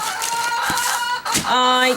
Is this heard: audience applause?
no